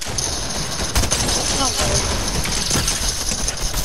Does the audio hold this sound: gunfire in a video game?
yes